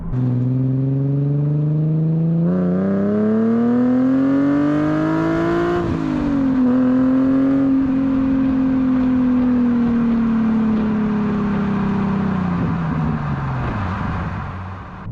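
A Nissan 370Z sports car drives and revs continuously, its engine tone climbing and falling through the gears at close range, loud and steady with no voices.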